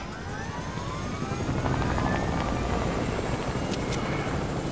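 A helicopter in the video game Fortnite drones with a continuous rotor thrum that holds steady and fairly loud throughout, with no voices over it.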